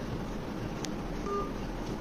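A phone number is keyed in on a telephone, giving short DTMF dialing tones over steady low room noise, with a brief clear tone near the middle and no talking.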